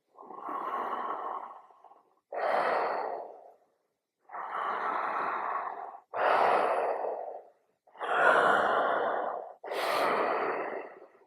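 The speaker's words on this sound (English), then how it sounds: "keep going, a number of breaths, playing with those parameters of nose and mouth" Six long, steady breaths in a slow circular pattern, drawn and released through nose and mouth. Each is a soft, airy rush lasting a second or two, separated by brief silent pauses, close and alone.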